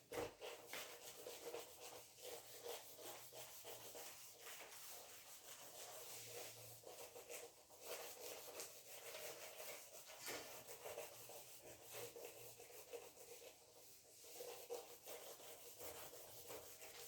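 Writing is rubbed off a classroom board in a continuous soft, scratchy swishing with uneven strokes, faint and steady throughout, with no voices.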